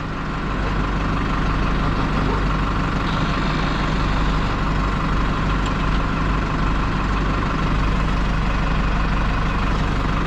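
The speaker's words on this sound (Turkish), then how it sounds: "Abim kepçenin o taraftan destekliyor şimdi." A backhoe loader's diesel engine runs steadily and loudly, close by and unbroken, while it props up a tipped-over truck trailer whose tires on one side are flat.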